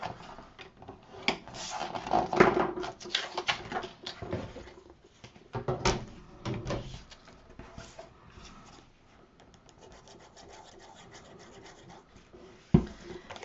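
A scoring tool draws across cardstock at a half-inch mark while a country-style recipe album is made, giving quiet, irregular scraping and rubbing strokes with a few sharper taps, close by and with no talk.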